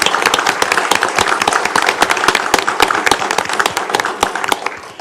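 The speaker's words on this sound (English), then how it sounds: "So we want to give a round of applause to our city manager." A roomful of people at a city commission meeting applauds the city manager, with steady, fairly loud clapping that holds for several seconds before tapering off.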